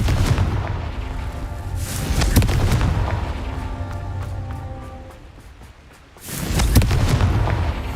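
Confringo blasting-spell explosions in the video game Hogwarts Legacy go off as about three deep, booming bursts spaced a few seconds apart, with softer rumbling between them.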